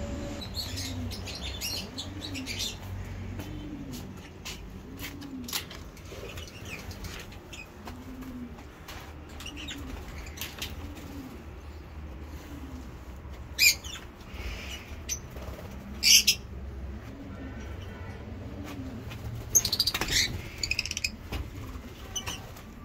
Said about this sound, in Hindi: आवाज़ें निकालते हैं हमारे परिंदे लबर्ड्स जो है।